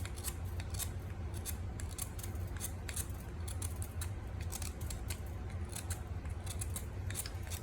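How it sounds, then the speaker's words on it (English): An old sloyd knife scrapes crusty copal resin in quick, crisp, repeated little clicks and scratches. It is close but quiet over a low background hum. "So I just use an old Sloyd knife and just kind of scrape away"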